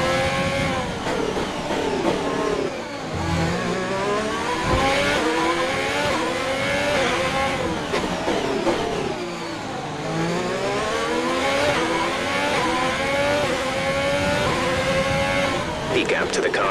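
A Formula 1 car in the F1 2020 video game accelerates and revs hard through repeated gear changes, a loud, close, rising and falling engine whine with a race engineer's voice speaking over it.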